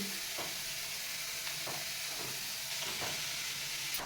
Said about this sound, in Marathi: आता हा वाटलेला मसाला या कारल्यामध्ये घालून घ्यायचा आहे